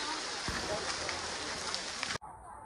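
Steady rain hisses and patters across a surface, dense and close, with some voices faint beneath it before the sound cuts off abruptly near the end.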